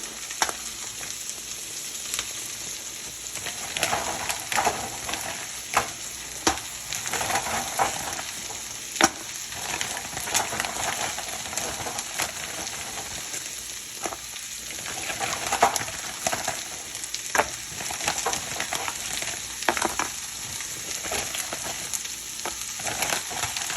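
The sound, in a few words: stirring dumplings into frying curry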